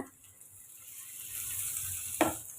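Soft sizzling of garlic potatoes frying in oil builds gradually, with a brief clink of a utensil against the pan near the end.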